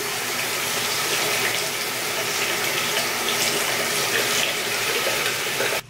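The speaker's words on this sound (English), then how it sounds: "Rinse it like that and you have a perfectly clean brush." Running tap water splashes steadily as a brush is rinsed under it at a sink, a continuous close rushing flow that holds without a break for several seconds and stops abruptly at the end.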